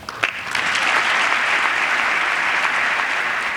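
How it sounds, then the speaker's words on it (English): A crowd breaks into sustained applause after a president's announcement of an electric vehicle plan, a dense wash of clapping that starts abruptly and holds steady for several seconds. "Whoopee, and they all applaud"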